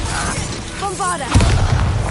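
The Bombarda blasting spell goes off in Hogwarts Legacy with a sudden low boom and crackling burst, close and loud, following a brief shouted voice.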